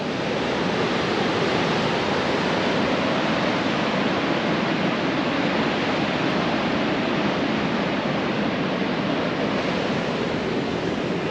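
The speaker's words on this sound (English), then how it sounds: "I've got to Lockswell Beach" Ocean surf at Locks Well Beach on South Australia's Eyre Peninsula roars as a continuous, dense wash of breaking waves, loud and unbroken, with a touch of wind and no voices.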